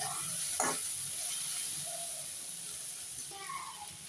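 Chopped tomato softening in a pan of kara kuzhambu with okra, giving a steady sizzling hiss with a few brief stirring scrapes, fairly close and moderately loud.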